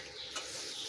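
Mango pickle with salt and crushed jaggery is stirred in a pan, giving a soft continuous sizzle and scraping rustle with a brief tap midway, close and steady, with no speech.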